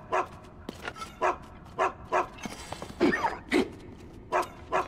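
A dog in The Legend of Zelda: Tears of the Kingdom barks repeatedly in a steady rhythm of about eight short yips, close and clear, with a brief whine in the middle.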